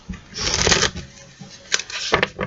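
A deck of oracle cards is shuffled by hand in two brisk bursts of papery riffling and sliding, close and fairly loud, separated by a short pause.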